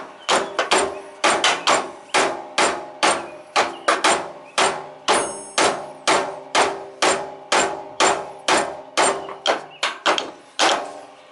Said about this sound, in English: got myself a little ball peen hammer